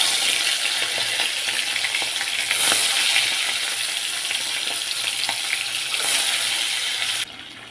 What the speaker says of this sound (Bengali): ফোড়নটা একটু হতে দেবো